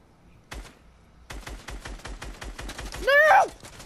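Video game gunfire: a short burst of shots, a pause, then a long run of evenly spaced single shots, moderately loud, ending with a sweeping electronic tone.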